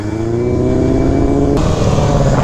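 A motorcycle engine runs warm and revs, a loud close rumble with a rising whine that climbs steadily, then drops sharply as the throttle shifts, with the rough idle-like drone continuing.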